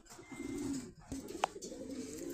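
Denis pigeons on a pigeon farm give low, throaty coos, faint and close, one drawn-out call followed by another with a short click in between.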